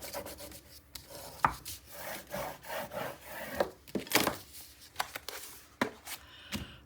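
Paper being burnished down on an 8x8 mini album, a run of soft dry rubbing strokes and scrapes with a few sharper taps, close and fairly quiet with no talking.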